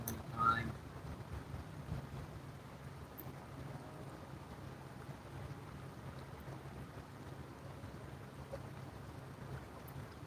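A motorboat runs at full throttle toward the shoreline of a freshwater fishing spot, a steady low engine drone with wind and water wash that holds constant for about ten seconds, moderately distant, with no talking.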